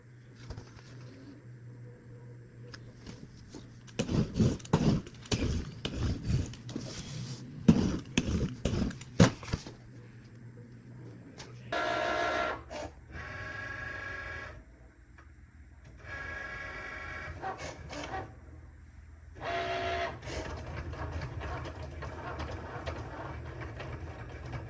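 A Cricut Maker cutting printed stickers, with irregular mechanical whirring and clicking from the carriage in bursts, then steadier motor runs and pauses, fairly close and moderately loud.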